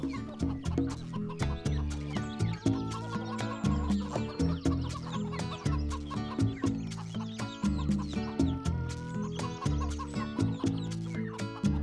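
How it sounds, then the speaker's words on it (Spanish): Rooster calls and clucking repeat continuously over a busy, loud musical backdrop, with no pauses. "Todo comenzó cuando el gallo cantó."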